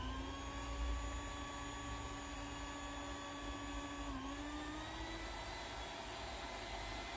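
An electric mixer beats cake batter for a steamed black forest cake, giving a loud steady motor whine whose pitch dips briefly midway, close and continuous throughout.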